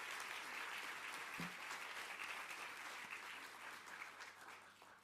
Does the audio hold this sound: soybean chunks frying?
no